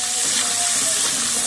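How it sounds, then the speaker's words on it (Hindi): Water splashes into a hot pan of frying onion, ginger and garlic for a matar anda curry, giving a loud, continuous hiss and sizzle with no talk. "ये देखिए अब मैं थोड़ा सा पानी डालने लगी हूँ।"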